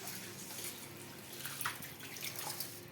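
Tap water runs and splashes at a kitchen sink while dishes are washed after cooking a rice-rava breakfast. The sound is a faint, continuous trickle with light clinks and drips.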